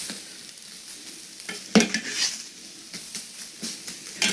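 Tofu scramble stirred in a frying pan, heard as a soft sizzle under repeated scraping strokes of a utensil against the pan. A couple of louder clanks stand out, and no one talks.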